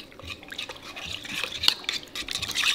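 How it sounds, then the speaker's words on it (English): A spoon stirs food and spices in a pot in a home kitchen, giving soft scraping and clinking against the metal, fairly quiet and uneven, with no talk. "And then I need to stir it."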